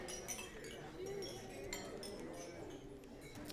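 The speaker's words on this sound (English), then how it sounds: "please join me in raising a glass to Vicki and Eric." Glasses clinking together in a wedding toast, a scatter of light, bright clinks over a steady murmur of guests talking in a reception room.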